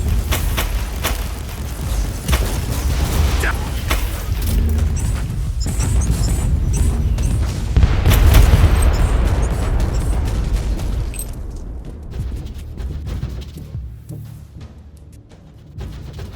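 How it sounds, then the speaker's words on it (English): Rebel mortar artillery bombarding an Imperial fort in the Warhammer 40K Inquisitor Martyr video game, a dense, continuous roar of booms and blasts with a swelling peak midway before thinning out. "their mortars attack the Imperial fort with artillery fire"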